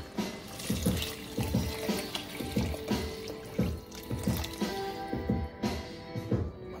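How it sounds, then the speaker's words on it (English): Water poured from a small can into a pot of fish soup with red snapper and potatoes, splashing in a steady, repeated rhythm of pours, close and moderately loud, with no talking. "it's time for us to add these potatoes and this water"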